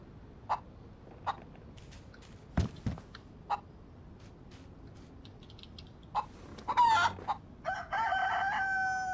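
Chicken in the survival video game DayZ, clucking in short, separate bursts spaced a second or two apart, then a louder flurry of agitated clucks near the end, with faint footsteps around it.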